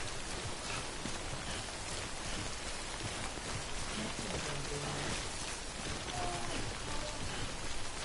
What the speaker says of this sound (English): It's bad rain, but it's not acid rain.